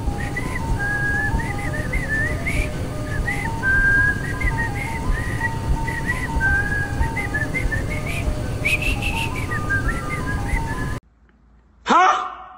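Mickey Mouse whistles a bouncy tune in a video game, its bright, steady melody running for about eleven seconds over game sounds before stopping abruptly, followed by a short chirpy effect.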